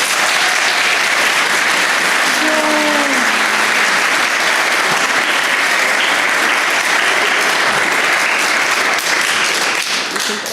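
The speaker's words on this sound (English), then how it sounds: "Let's give this family a round of applause." A church congregation applauds a family, dense sustained clapping filling the room loudly and evenly for the whole stretch, with a brief voice heard faintly early on.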